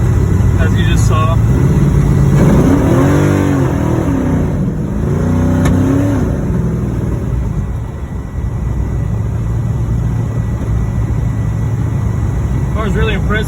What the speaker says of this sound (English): Car's really impressive with such a big engine. 850 horsepower really gets it going quick.